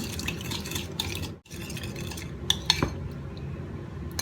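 A spoon stirs a sauce mixture with corn flour in a bowl, making soft, close swishing with a few sharp metallic clinks partway through.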